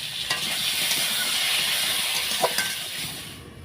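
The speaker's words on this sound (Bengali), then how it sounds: "লবণ হলুদ দিয়ে আলু বেগুন ভেজে নেব ভালোভাবে" Cubed potato and eggplant with salt and turmeric frying in oil over nigella seeds, a continuous close sizzle broken by light stirring scrapes and clinks.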